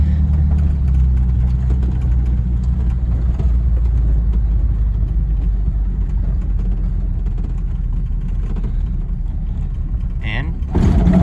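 A 1951 Packard 300 Ultramatic sedan's engine drones steadily as it drives over a rough field, with rattles and bumps, ending in a brief squeak and clunk.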